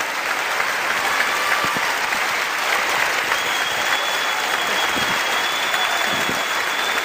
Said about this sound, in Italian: Tutto l'applauso, l'affetto.